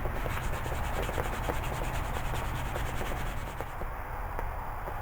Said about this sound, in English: So I'm going to start sanding away